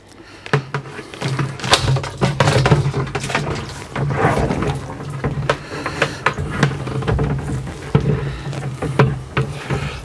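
Titan TTB583PMP sump pump pushing water through an attached flexible hose, a steady low hum with splashing, patter and occasional knocks running continuously throughout.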